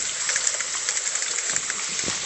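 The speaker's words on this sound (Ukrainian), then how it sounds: "Град пішов." Hail falls outdoors in a suburb of Offenburg, Germany, a steady hiss of hailstones with scattered brighter clicks and taps from individual hits, fairly close and with no talking.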